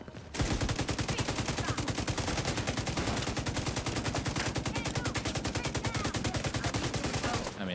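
Rapid automatic gunfire from The Division 2 video game rattles continuously for several seconds, a dense, even stream of close, loud shots without pause.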